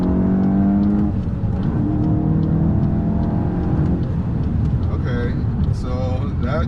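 A 2024 VW GTI 380 Edition running a COBB Stage 1 tune pulls hard under acceleration, its engine note climbing steadily and loudly through the gears, with people talking inside the cabin over the drone.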